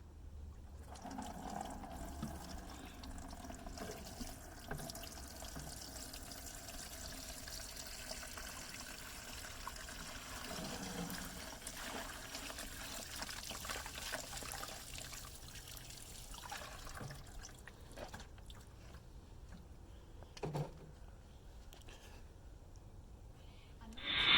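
Water poured into a worm composting container to soak and soften the bedding, a steady soft trickle running continuously at close range with no talk over it.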